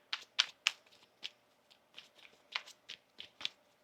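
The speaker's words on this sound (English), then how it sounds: "One more shuffle here." A deck of tarot cards riffled and shuffled by hand, a series of soft, crisp flutters and taps in uneven bursts, close up and quiet.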